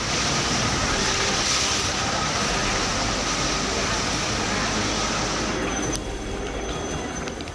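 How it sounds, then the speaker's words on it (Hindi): Swollen Purna river in flood after a cloudburst-like downpour, its surging waves a dense, continuous roar that fills the whole stretch, loud and close, with a slight drop in intensity near the end. "पूर्णा नदी की हुंकार मारती ये लहरें बता रही हैं कि मौसम का मिजाज क्या है"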